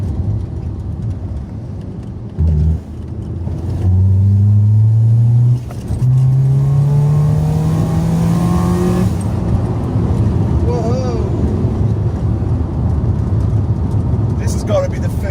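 A Citroen Saxo VTR engine with its air intake disconnected revs up in several rising bursts, the pitch climbing steeply each time before dropping back to a loud idle, with close induction roar throughout.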